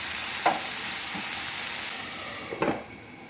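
A dish sizzles in a pan as salt is added and it is stirred, steady frying hiss broken by a few scraping strokes of the spoon; close, with no talking.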